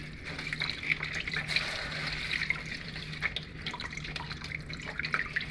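Lemongrass washed under a running tap before stuffing a chicken for Filipino chicken inasal, steady close water flow splashing at a sink with small drips and handling noises.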